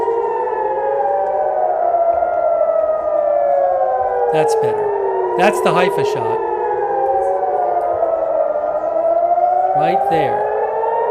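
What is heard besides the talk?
air raid sirens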